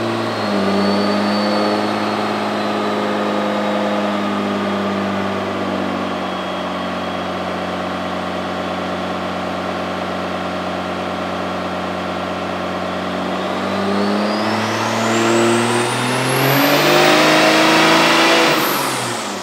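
A Cummins diesel truck engine of nearly 700 horsepower runs on a dyno, droning loud and steady as it holds, then climbing hard in pitch as it revs up near the end, with no voices.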